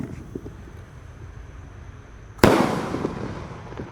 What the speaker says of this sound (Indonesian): Lanjut kita nyalakan mercon elang mas